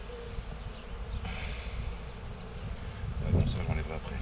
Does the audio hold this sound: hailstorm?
no